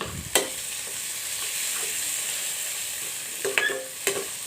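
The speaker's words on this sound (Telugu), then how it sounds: "వీటిని బాగా కలుపుకుంటున్నాను" Potato, eggplant, tomato and peas curry is stirred as it fries in a pan. A soft background sizzle is broken by a few sharp scrapes and clatters of the spoon, with no voices.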